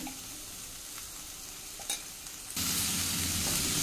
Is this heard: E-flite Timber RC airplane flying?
no